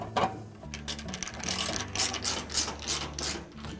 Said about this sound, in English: we'll reinstall the other two screws on the front of the bulkhead